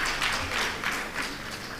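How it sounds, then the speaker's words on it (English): An audience at a journalism ethics forum gives a brief round of applause for guests called to the stage, a soft, distant wash of clapping that rises and falls slightly in waves. "Please, can we give them a round of applause?"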